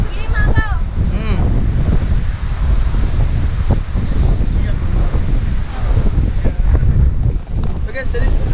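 Strong wind buffets the microphone over a continuous roar of surf at Papuma beach, a white-sand shore, loud and close for the whole stretch while people talk nearby.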